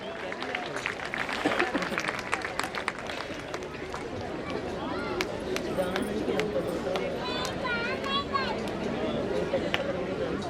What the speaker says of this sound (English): Audience, please keep on cheering our achievers.